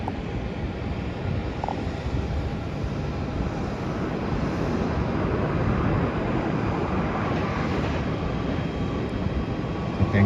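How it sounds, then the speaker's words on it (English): Steady broadband roar of an Airbus A380 airliner rolling out after landing at Melbourne airport, a constant, fairly loud rumble with wind buffeting that stays even throughout. "The Airbus A380 just landed."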